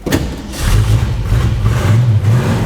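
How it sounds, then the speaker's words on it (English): A classic Ford V8 car revs up close, its throaty exhaust note swelling from a low rumble into a sustained, loud growl that rises and falls slightly. "It's got just lovely exhaust note."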